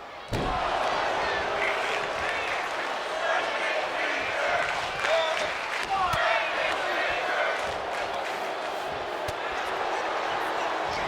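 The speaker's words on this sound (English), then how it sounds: "watching that crowd on their feet here at World Class Wrestling" A crowd at a World Class Wrestling show roars continuously, a dense wall of cheering with thuds and slams cutting through as a commentator talks over it.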